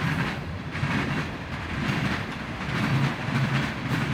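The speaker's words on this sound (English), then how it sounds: "Nice manifest train." A manifest freight train rumbles past steadily with rhythmic clickety-clack from the wheels over the rails, a continuous moderate roar with no voices.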